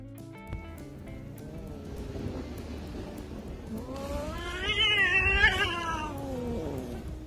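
A cat yowls and meows in a drawn-out, wavering caterwaul that swells louder midway through, with no talking over it.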